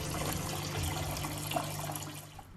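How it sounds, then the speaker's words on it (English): An automotive 3.5 gallon parts washer pump circulates water in a steady, continuous wash of running liquid with a low hum underneath, close and even throughout, with no talking. "the parts washer pump seems to be working, appears to be working exactly as it should"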